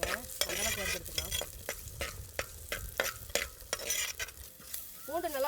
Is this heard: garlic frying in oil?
yes